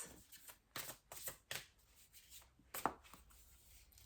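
Tarot cards being shuffled in repeated bursts of riffling and sliding, close and fairly quiet, with short pauses between passes and no talking.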